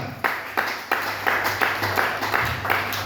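Rhythmic group clapping from a church congregation acclaiming the Lord during a tithes and offerings service, steady beats repeating about every third of a second over a low sustained hum, fairly close and moderately loud.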